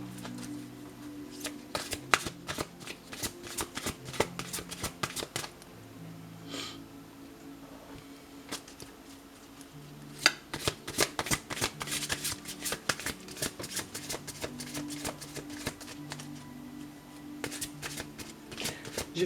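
A deck of angel oracle cards is shuffled by hand close up. Crisp, quiet riffling bursts repeat in irregular clusters, with soft rustling and tapping of the cards between them.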